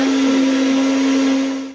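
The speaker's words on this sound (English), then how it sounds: "So now my smoothie is blended" A Sencor vacuum blender runs steadily as it blends a smoothie, a loud close motor whine holding a single pitch before it winds down and fades at the end.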